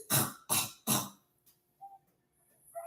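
A person imitates throat clearing with three harsh, raspy bursts in quick succession, followed by a few faint small sounds.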